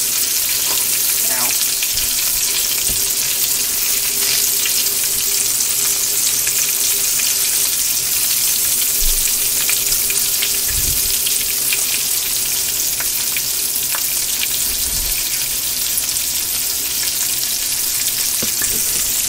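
Squirrel meat frying crisp in a pan, a loud unbroken sizzle and hiss close by, with a few faint clinks and knocks beneath it and no talking.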